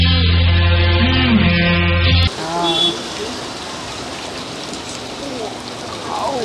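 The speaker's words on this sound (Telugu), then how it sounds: "ఇప్పుడు వర్షం అయితే ఘోరంగా పడుతుంది." Heavy rain pours at a bus stand with a steady, dense hiss. A stretch of music plays at first, then the downpour carries on under faint voices.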